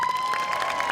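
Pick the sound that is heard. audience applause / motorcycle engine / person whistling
audience applause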